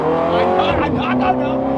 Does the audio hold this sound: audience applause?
no